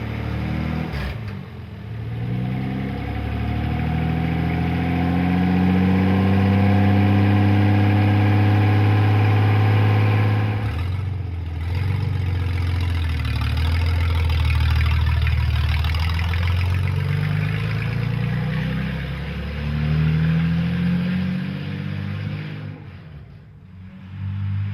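A rebuilt 1951 Studebaker Champion engine fires up and runs steadily, close and loud, with a low throbbing idle that climbs into several sustained revs and settles again, ending in a brief drop near the close.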